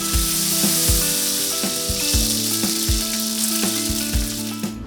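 Sardines fry in hot oil in a pan, giving a steady close sizzle and crackle throughout, with recurring clinks and tonal knocks on top and no talking.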